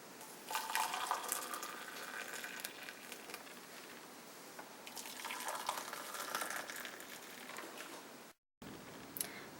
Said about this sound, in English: Step 11, pouring the water into the cups.